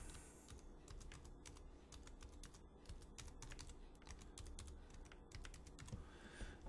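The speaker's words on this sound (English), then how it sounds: "And so I got to type in the password." A password is typed on a computer keyboard: a quiet, steady run of crisp keystroke taps over faint room hum, with no voices.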